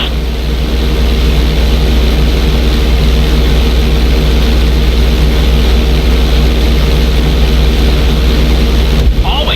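A propeller plane in the video game GTA 5 gives a loud, steady, close engine drone and buzzing prop hum during takeoff, unbroken throughout, with a brief change right at the end.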